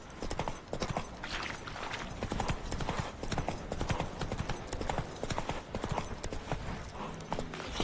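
Horse hooves galloping in The Witcher 3 video game beat out a fast, continuous clip-clop rhythm, close and prominent, with occasional faint snorts.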